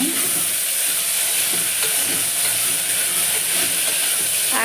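Chopped tomatoes fry in a pan with a dense, continuous hiss as they are stirred, loud and close with no one talking.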